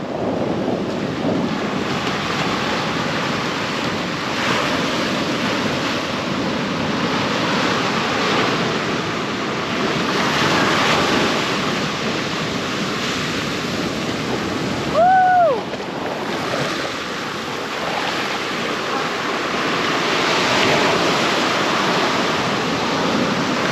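Ocean waves at Kelingking Beach on Nusa Penida make a steady, loud broadband surf wash with some wind rumble over the microphone, and a brief rising tone cuts in about two-thirds through.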